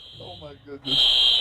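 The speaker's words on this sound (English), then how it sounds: "That's the fire alarm going off" A fire alarm blares during a live TV sports broadcast interview, cutting in abruptly as a loud, steady high-pitched electronic tone that holds to the end, right after a person exclaims in surprise.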